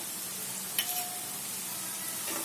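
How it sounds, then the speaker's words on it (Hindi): Onions frying in a pan, a quiet steady sizzle with a single light clink near the start and no talking. "ये प्याज भी अच्छे से भून गई है।"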